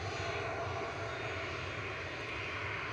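Airliner taking off at Manchester Airport in winter with de-icing fluid streaming off, a loud, steady jet engine roar filling the whole stretch with constant broadband rumble and no voices.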